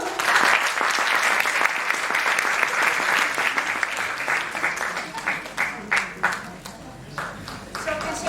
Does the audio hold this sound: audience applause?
yes